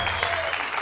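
Studio audience applause on a Georgian comedy game show after a contestant wins 50 lari, a short steady patter of many clapping hands under a faint hum.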